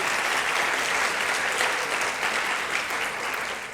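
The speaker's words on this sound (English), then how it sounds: "give Drew Stenslin a round of applause for emceeing and being student body president" Steady, full applause from a school honors convocation audience for the student body president serving as emcee, many hands clapping evenly at moderate loudness for several seconds.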